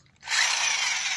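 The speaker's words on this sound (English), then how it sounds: "this is a 3/8 inch drill, and the reverse does work on this drill" A 3/8 inch electric drill running in reverse starts up after a brief pause and then holds a steady, close, high-pitched motor whine to the end.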